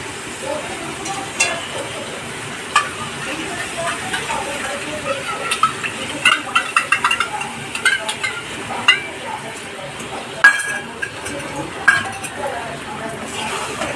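Yogurt spooned into a simmering potato curry and stirred, with soft scraping and clinking of a spoon against a pot over a low background hiss, occasional sharper taps standing out.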